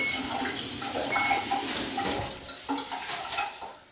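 Water swishes and sloshes inside a thin glove made from a compostable plastic bag in continuous, close handling sounds, with soft rustling and no talking.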